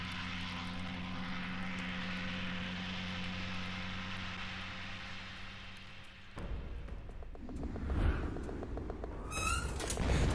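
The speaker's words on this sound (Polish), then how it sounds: "Alianckie samoloty zrzucają bomby na polskie berety?" Aircraft engines drone steadily overhead, a low sustained roar in an animated wartime scene of Allied planes dropping bombs, giving way to rougher rumbling and bursts near the end.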